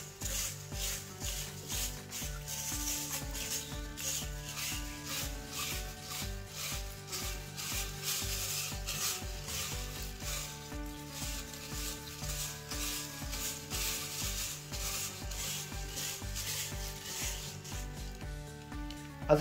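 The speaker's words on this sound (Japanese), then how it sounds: "水で小豆を洗っていきます" Azuki beans washed by hand in water, giving a steady rhythmic rubbing and rasping as the small beans are swished and scrubbed together, faint and close up with no talk.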